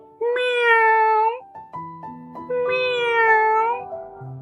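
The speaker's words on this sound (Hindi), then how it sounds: "पूंछ हवा में उठाए बिल्ली ने भी" A cat meows twice, loud and close, with long drawn-out cries separated by a pause filled with soft clattering and bumping sounds, ending with a short low thud.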